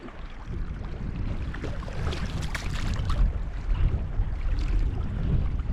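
Wind rushes and buffets constantly in the open by a lake on the Oulankajoki river in Finland, a rough, noisy roar that swells and gusts louder toward the end.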